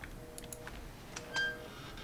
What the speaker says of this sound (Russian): Телефоны все не работают, хотя пищат.